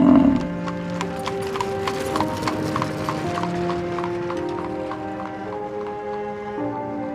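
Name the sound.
horse galloping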